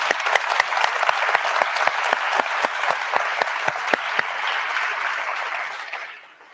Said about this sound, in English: I would like to encourage all of us to give Ms. Ilyasah Shabazz one more round of applause